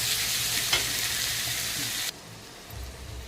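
Chopped tomato and onion fry in hot oil for a mutton curry, a loud steady sizzle with a stir scrape that cuts off abruptly, leaving a quieter low rumble.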